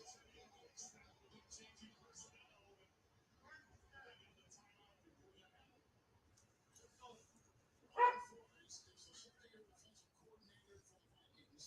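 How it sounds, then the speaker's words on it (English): A Dalmatian barks once, sharp and fairly close, over a quiet background of sports commentary and talk from a Vikings–Packers football game. "my Dalmatian's not the sharpest tool in the shed. She barks at everything."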